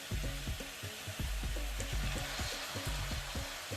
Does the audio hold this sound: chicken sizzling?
yes